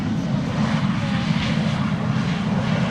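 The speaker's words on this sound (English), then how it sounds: "this 747 is going to make a right-hand turn in a moment and will be coming this way" Air China Cargo Boeing 747 engines roaring steadily at moderate distance, a continuous broad rumble that holds even throughout with no break.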